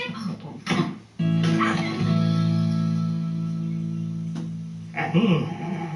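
A Highland Terrier gives short yips, a long drawn-out whining note, then another burst of yapping, loud and close.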